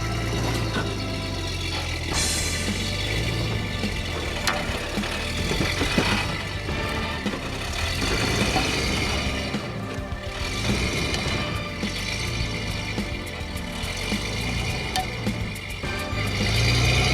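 Vehicle engine in first gear pulling steadily against a Bush Winch up a hill, a continuous mid-pitched drone with slight rises and falls, moderately loud and close, with no talking.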